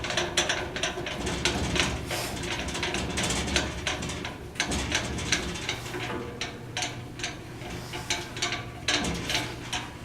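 A bandsaw's blade tension mechanism is cranked by hand, giving a continuous run of close ratcheting clicks and mechanical grinding with brief pauses, and no one speaks.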